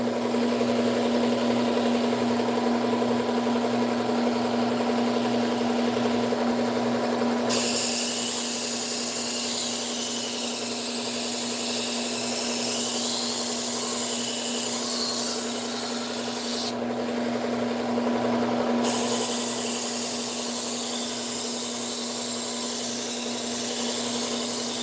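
Ceramic coated knife sharpened by edge trailing strokes, a continuous close abrasive rubbing that shifts in tone between long passes, with no talking.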